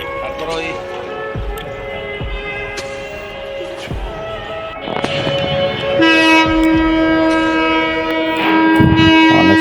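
A train rolls through the Jurain railway crossing gate with clattering wheels. A sustained horn blast sounds over the rumble in the second half, loud and near.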